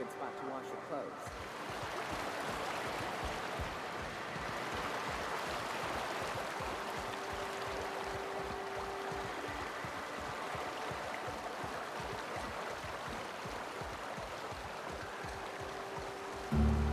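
Waterfall rushing on the planet Monarch in The Outer Worlds game, a steady broadband wash of falling water holding constant throughout, with a soft rhythmic low patter beneath and faint ambient tones.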